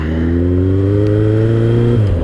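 A 2003 Kawasaki ZR7S motorcycle accelerates at night, its engine loud and close with a steady rising drone of strong harmonics that shifts pitch near the end as it changes gear.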